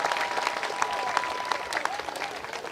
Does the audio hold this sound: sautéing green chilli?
no